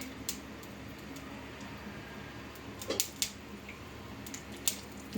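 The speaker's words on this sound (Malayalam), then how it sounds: "കടുക് പൊട്ടട്ടെ" Mustard seeds popping in hot oil in a pan, the first step of a raw jackfruit thoran: sparse, faint crackles and sharp pops scattered over a quiet background hiss.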